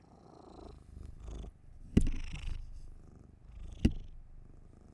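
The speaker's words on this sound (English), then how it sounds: "She has a loud purr." A cat purrs loudly and close to the microphone in a low, continuous rumble broken by breaths, with two sharp clicks or taps cutting through.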